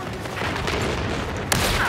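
Gunfire in a Battlefield video game: a dense, continuous crackle of distant shots and bursts, with a sharper, louder shot near the end.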